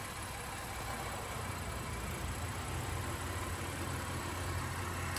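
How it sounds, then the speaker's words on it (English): A 2017 Honda Ridgeline RTL-T AWD pickup truck engine idles steadily with a low, even hum and faint broadband noise, unchanging throughout, with no voices. "This vehicle is running right now. Very quiet engine."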